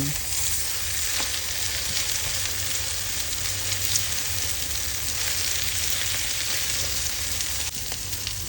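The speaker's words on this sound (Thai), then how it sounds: "จากนั้นก็ราดไข่ลงไปเลยค่ะ ด้านล่างเริ่มสุกแล้วนะคะ กลับด้านได้เลย" Oysters frying in a hot pan with beaten egg poured over them give a loud, steady, dense sizzle that hisses on without a break from start to finish.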